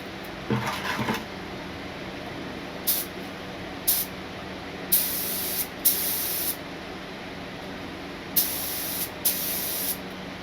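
A cheap Harbor Freight purple spray gun lays 2K clear coat onto a car headlight in short, sharp bursts of hissing spray, several separate passes close by, with quiet pauses between them.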